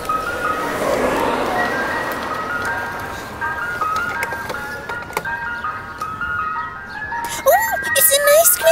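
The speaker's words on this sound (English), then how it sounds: "Truck. Oh, can I have an ice cream," Ice cream truck jingle playing at a playground, a tinkling melody drifting in from moderate distance over ambient outdoor noise, with brief voices and a louder burst near the end.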